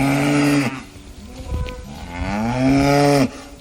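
Cows low in a paddock at Maleny Dairies, two loud, drawn-out moos close by, separated by a quieter stretch of outdoor background noise.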